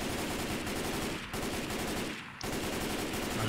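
Rapid automatic gunfire from a weapon in Left 4 Dead 2, a dense continuous burst of loud shots with two short breaks, no voices.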